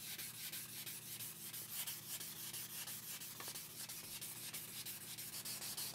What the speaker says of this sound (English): Keep scrubbing until it feels like your arms are falling off.